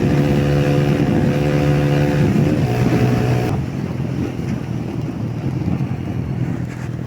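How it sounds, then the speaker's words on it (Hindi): A modified Yamaha YBR motorcycle runs at top speed, its engine holding a steady high drone under loud, constant wind rush; partway through the engine tone drops away and leaves mostly wind noise, close and continuous, with no talking. "माशाल्लाह से बाइक बहुत अच्छा परफॉर्म कर रहा है।"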